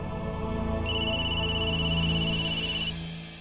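A telephone rings with a steady, bright electronic tone that holds for about two seconds over a low background hum, with no voices.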